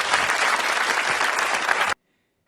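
A large studio audience at a comedy monologue breaks into loud, dense applause that fills the room evenly for about two seconds, then cuts off abruptly into silence.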